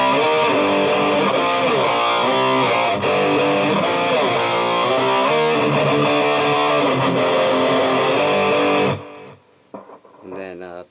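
Electric guitar with a wah pedal playing a riff, a loud, sustained distorted line with sweeping tonal shifts that runs steadily for about nine seconds before cutting off abruptly into quiet.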